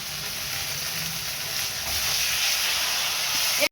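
A spice paste of cumin, ginger, coriander, hot chili and turmeric frying in a pan for a fish curry, giving a loud, continuous close-up sizzle and hiss that holds steady and then cuts off abruptly at the end.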